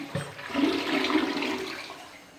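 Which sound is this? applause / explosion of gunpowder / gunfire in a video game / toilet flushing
toilet flushing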